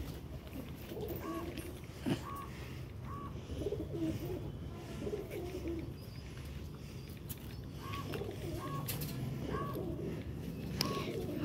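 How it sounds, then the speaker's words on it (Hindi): Pigeons coo in soft, repeated phrases at a moderate distance, the calls recurring every second or two over a low, steady background hum. "माशाल्लाह हम लोगों ने देखे फिर से कबूतर कितने हो गए"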